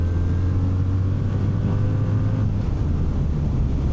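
Steady low engine drone of a 2026 Kawasaki W800 motorcycle cruising in fifth gear at 70 mph on a highway, mixed with rushing wind noise, constant and fairly loud throughout.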